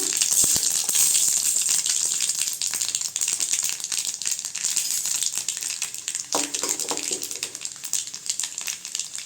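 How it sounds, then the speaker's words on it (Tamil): Mustard seeds and chana dal frying in hot oil for a ridge gourd peel chutney, a steady close crackling sizzle with dense popping and rattling that continues throughout with no voices. "எண்ணெய் சூடாகிடுச்சு, கடுகு போட்டுக்கலாங்க."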